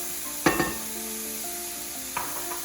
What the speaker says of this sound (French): Là, on va faire dorer pendant 6-8 minutes nos petits oignons